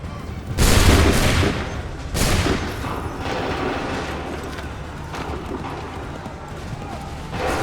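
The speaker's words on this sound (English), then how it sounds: "Open fire." Musket volleys boom out in the Assassin's Creed III video game: two loud crashing bursts of gunfire, then a long rumbling, crackling battle din that continues in the background.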